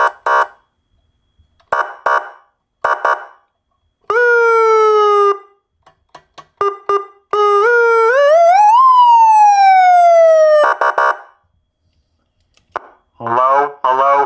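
A newly installed fire alarm horn sounds loudly and up close. Short pulsed blasts come first, followed by long, piercing tones that rise and fall like a wailing siren, with brief gaps between bursts.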